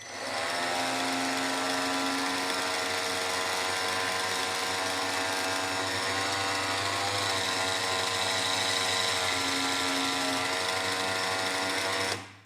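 A Parkside PBFA LI A1 cordless roller sander runs at a steady high-pitched whine with a constant motor hum, close and unbroken for about twelve seconds, then cuts off, with no talking.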